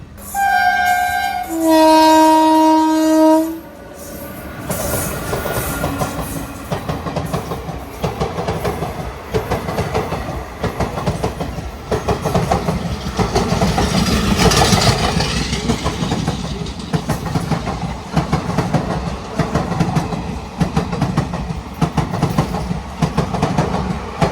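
A train horn blares loudly for a few seconds, then the Ernakulam–Okha Express rumbles past at a crossing with continuous rhythmic clattering of wheels on the tracks.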